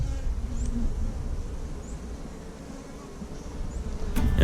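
Honey bees buzz inside an open hive during an inspection of a recently caught swarm, a close, steady droning hum that continues throughout the few seconds.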